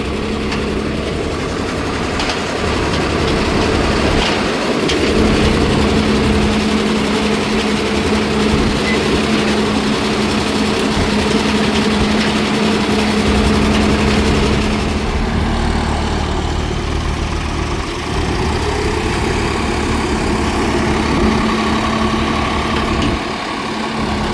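A Swaraj 969 FE 4WD CRDI tractor pulling an 11-tyne cultivator in first gear, its diesel engine droning loud and steady with a constant low hum throughout, no talk over it.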